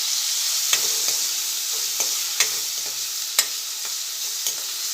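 Chopped tomatoes sizzle in a pan of hot oil with garlic, ginger and chilies for a Kathiyawadi sev tameta curry, a steady close frying hiss broken by a few sharp stirring clinks and scrapes, with no talking.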